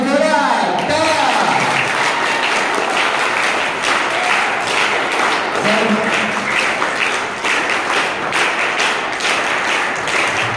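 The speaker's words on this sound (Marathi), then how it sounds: "सर्वांनी टाळ्या वाजवून जोरात टाळ्या" An audience at a summer fitness camp gathering claps loudly and continuously, a dense close burst of applause after a voice at the start.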